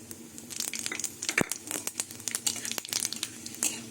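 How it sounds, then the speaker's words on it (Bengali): Five-spice seeds, bay leaf and dried chilli tossed into hot mustard oil give a dense, irregular crackle of small pops and spits, close and fairly loud, with one sharper knock partway through. "তেল গরম হয়ে গেছে এবার ফোড়নে পাঁচ ফোড়ন তেজপাতা আর শুকনো লঙ্কা দিয়ে দেবো"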